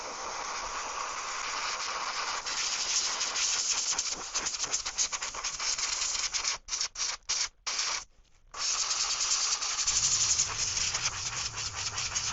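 An airbrush sprays orange paint onto 3D-printed fishing bait in a steady close hiss, broken by several short bursts and pauses before a lower hum sets in near the end.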